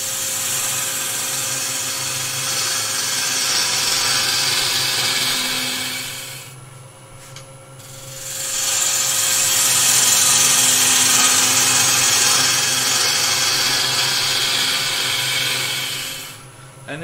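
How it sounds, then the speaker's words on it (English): A wood lathe spins while a turning tool cuts the wood on the tool rest, giving a loud, close, sustained grinding rasp that drops out briefly midway, then resumes strongly before fading at the end. "as I lift, come along the tool rest, I'm twisting my right hip into the lathe and lifting my handle as I go."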